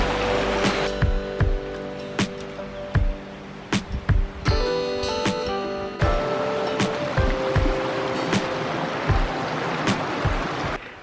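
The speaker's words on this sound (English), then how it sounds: "You could hear the creek all night long" A creek flows steadily beside a campground at Camp Creek, West Virginia, making a continuous close rushing of water. Scattered sharp knocks and clicks sound over it, and no one speaks.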